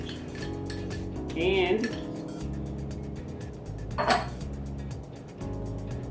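Baking soda, arrowroot and clay are stirred together in a bowl for homemade deodorant, with a spoon scraping and clinking against the sides in a quick rhythm and two louder clanks. A voice speaks one brief word.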